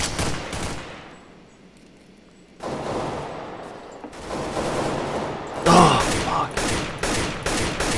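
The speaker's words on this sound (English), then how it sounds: "These guys are sitting on roofs and shooting us" Gunfire from enemies on rooftops in CS:GO rings out in sharp bursts and rapid volleys, loud and close, with a quieter lull early on before heavy shooting resumes.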